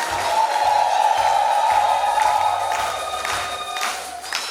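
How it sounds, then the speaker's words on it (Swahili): A church congregation at a Catholic mass for nuns' perpetual vows cheers with sustained, high, trilling ululation from several women over a busy crowd roar, loud and continuous before tapering slightly at the end. "Naomba tuwapongeze na kuwashangilia kwa vigelegele"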